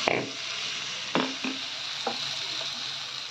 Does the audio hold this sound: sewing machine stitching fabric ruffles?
no